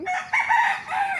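A rooster crows loudly and close in a village yard, one drawn-out call with a rising start and wavering tail.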